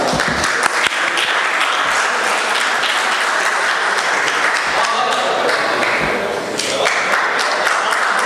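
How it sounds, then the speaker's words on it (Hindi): Loud, sustained applause from a mushaira poetry audience in Sharjah fills the whole stretch, dense clapping with a few scattered thumps and a brief dip near the end. "जनाब शादाब उल्फत साहब को मैं दावत कलाम देता हूँ ज़ोरदार तालियों में।"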